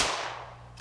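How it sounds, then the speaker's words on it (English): A single loud shotgun shot at a turkey cracks at the start and decays into a fading echo, followed by a faint short click near the end. "Nice shot, Terry"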